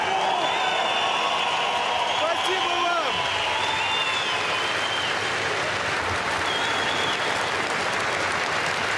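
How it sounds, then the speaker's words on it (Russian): Continuous applause from a boxing arena crowd after a lightweight title bout, dense and steady clapping filling the whole stretch at moderate loudness, with scattered voices and a few brief whistles on top. "Аплодирующие комментаторы."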